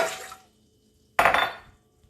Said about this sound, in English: Transfer the water to her bowl.